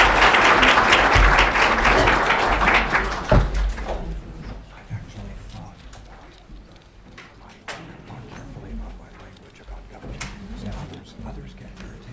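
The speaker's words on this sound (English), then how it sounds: "So please join me in a round of applause for our speakers." Audience applause for the speakers at the end of a history panel presentation: a burst of clapping for about four seconds that quickly dies away into quieter room noise, with scattered knocks and shuffles.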